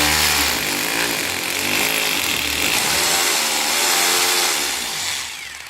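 A power drill bores through drywall during plasterboard installation, giving a loud, continuous motor whine with gritty cutting noise that holds steady throughout before easing off at the end.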